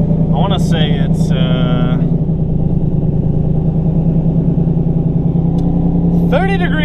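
A TH400 turbo Mustang idles while warming up on a cold day, a steady loud low rumble throughout, with brief talking over it at the start and end.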